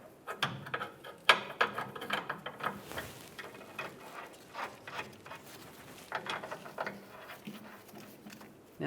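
A ratchet tightens nuts onto rear bumper studs of a 2007-2013 Chevrolet Silverado 1500, giving quick bursts of close, crisp clicking strokes in an uneven rhythm, without speech.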